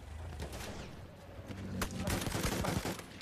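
Gunfire in Battlefield 1 on PS4, with rapid shots and overlapping bursts cracking over a steady rumble of battle noise, growing denser and louder toward the end.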